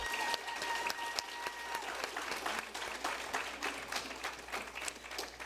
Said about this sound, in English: Please join me in giving a round of applause to all our Mu Alpha Theta seniors.